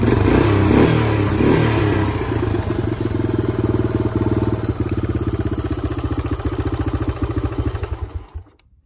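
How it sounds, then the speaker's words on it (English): Yamaha YTM200 three-wheeler engine running with the choke on a cheap replacement carburetor, loud and close, revving up and settling into a steady throbbing idle before cutting off abruptly at the end. "it is idling. It revs up."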